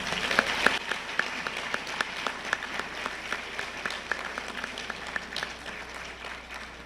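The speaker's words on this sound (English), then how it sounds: "I think we should give those students another round of applause." An audience at a school blue ribbon celebration applauds the students' music, a steady patter of many hands clapping at moderate volume, fairly distant.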